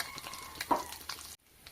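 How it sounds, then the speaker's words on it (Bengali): Whole garam masala spices, cardamom, cloves and cinnamon, hit hot mustard oil and give a brief, quiet sizzle that cuts off abruptly after about a second. "তেল গরম হয়ে এসেছে, এখানে আমি দিয়ে দিচ্ছি গোটা গরম মশলা।"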